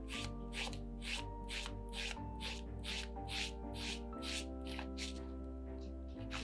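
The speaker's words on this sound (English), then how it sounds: "grate downwards on your little garlic crusher." A peeled garlic clove is rubbed down a small garlic grater in a steady run of about a dozen scraping strokes, close and quiet over a constant low hum.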